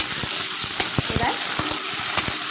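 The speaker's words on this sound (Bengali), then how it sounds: "একটু তেলের মধ্যে পেঁয়াজের সাথে আদা রসুনটা ভালো করে নেড়ে নিচ্ছে" Ginger-garlic and green chilli paste is stirred with onions in hot oil, with a steady bright sizzle under rapid clacking and scraping of a spatula on the pan, close and fairly loud.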